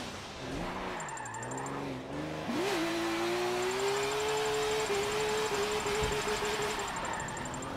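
A BMW race car in Forza 7 revs up and down, then climbs and holds high near its rev limit while drifting, with brief tyre squeal and a steady in-car engine tone. No one speaks.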